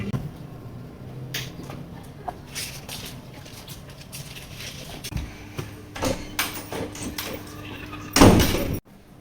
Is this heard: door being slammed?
yes